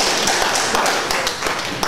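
A short burst of audience clapping during a French television business show, close and fairly loud, with individual sharp hand claps audible through the brief dense patter.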